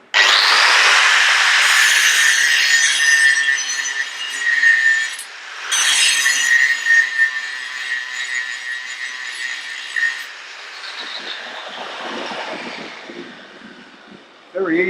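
A multi-use disc grinds a bevel on an 8mm by 50 steel bar. It makes a loud, continuous, high-pitched grinding whine with a steady tone, dips briefly partway through, and fades into a rougher, weaker grind toward the end.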